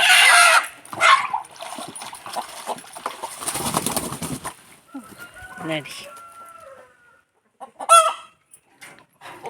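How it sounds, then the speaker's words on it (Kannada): Country chickens cluck and a rooster crows close by around a home, the calls coming in uneven bursts with quieter gaps, and a voice talks at times. "ನಮ್ಮ ಮನೆಯ ದೊಡ್ಡ ಹುಂಜಣ್ಣ"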